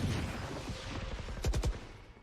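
Sheriff pistol shots in a Valorant match at a competitive esports tournament: a quick cluster of three or four sharp cracks near the end, over a steady noisy game background.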